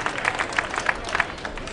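Spectators applaud cyclists at a Tour de Romandie prologue podium ceremony, a scattered outdoor clapping with bursts of claps mixed into crowd murmur, moderately loud and heard from a short distance.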